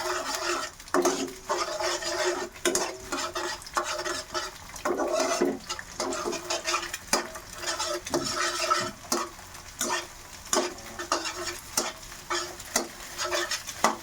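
Fried rice with egg being stirred in a pan, heard as repeated scraping and clanking strokes of a utensil against metal in an irregular rhythm over a soft sizzle, close and moderately loud.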